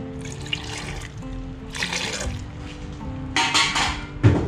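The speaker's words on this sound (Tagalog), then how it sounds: "Konting tubig." A small splash of water poured into a bowl of samosa filling with mint and coriander, soft trickling bursts amid light kitchen clatter, close and fairly quiet.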